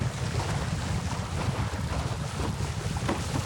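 Steady, loud wind buffets a microphone out on the open sea while windsurfing in moderate breeze, a continuous roar with low rumble and the wash of water beneath the board, no voices.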